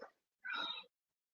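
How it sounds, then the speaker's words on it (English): A domestic cat gives a single short, faint meow in a quiet room, preceded by a brief soft sound. "that's my cat."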